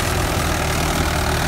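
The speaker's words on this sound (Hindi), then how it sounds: "585 XT प्लस 52 XT में ट्रैक्टर है, बिल्कुल नया मॉडल जो महिंद्रा ने लॉन्च किया है 4 सिलेंडर में।" A brand-new Mahindra 585 DI XP Plus four-cylinder tractor runs steadily while pulling a reversible plough through a field, its loud, close engine drone continuous and unbroken with no talk over it.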